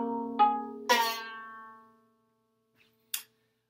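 Loose, badly out-of-tune strings on a string instrument are plucked one at a time, three ringing notes that fade slowly, followed by a faint tap and a short bright click in near silence.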